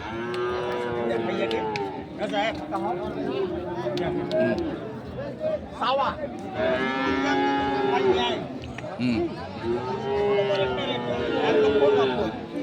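Sahiwal bulls at a cattle market give repeated drawn-out moos, close and loud, amid a busy crowd with people talking and bargaining throughout.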